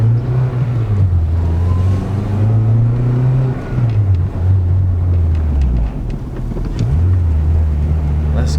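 A right-hand-drive JDM Honda Civic Type R drives and turns through city streets, its engine droning loud and close with rising and falling pitch as it shifts, wind rumbling over the microphone.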